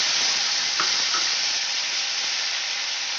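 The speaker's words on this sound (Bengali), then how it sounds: "এবার ভালো করে পেস্টটা আমি কষিয়ে নিই।" Green chili and tomato paste frying in a pan for a light catla fish curry with potato, giving a loud, dense, continuous sizzle throughout with a couple of faint clicks.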